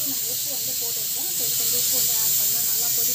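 Masala curry coming to a boil in a pot, a steady loud hiss with soft bubbling pops throughout, close and continuous with no voice over it.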